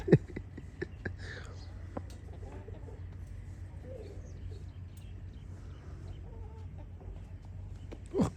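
Chickens and roosters on a farm cluck in short, scattered bursts, some close, some farther off, over a quiet background with faint soft voices.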